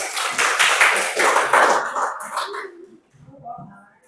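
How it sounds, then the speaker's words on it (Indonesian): Students in a classroom give a short round of hand clapping, a quick burst of claps lasting about two seconds that then stops, followed by a pause and some faint murmuring. "tepuk tangan."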